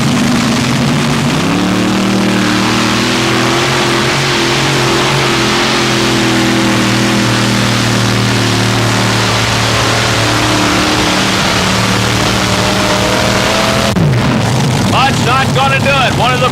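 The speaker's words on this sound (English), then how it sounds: "rolls up to the sled, 5 engines, 2 motors in the front crank" A tractor-pull machine with five 2,000-horsepower alcohol engines on an Engler chassis roars at full power, a loud sustained multi-engine drone that shifts pitch, then cuts sharply near the end as the revs drop, under commentary.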